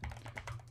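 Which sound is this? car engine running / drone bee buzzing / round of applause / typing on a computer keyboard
typing on a computer keyboard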